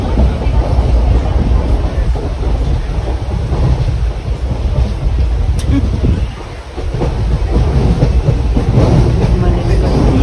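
A passenger train runs on the rails from Mangalore to Bengaluru, its loud, continuous rumble and rattle filling the whole stretch from inside the carriage.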